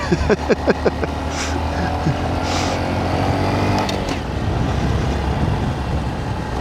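A Honda Monkey motorcycle rides off-road through sand in sagebrush country, its small engine droning steadily and close for the whole stretch, with a few sharp bursts at the start.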